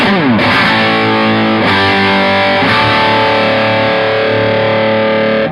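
Loud distorted electric guitar chords through a Laney Ironheart Foundry Loudpedal, direct with no other pedals, ring out with crunchy medium-gain overdrive, three struck chords sustaining and fading, no voices.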